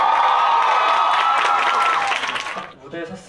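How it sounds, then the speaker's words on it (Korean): Audience at Hongseok's first solo fan meeting breaks into loud, sustained applause and cheering that fills the hall for a couple of seconds, then thins out and fades to scattered sounds. "홍석 씨를 위해서 큰 박수 부탁드립니다."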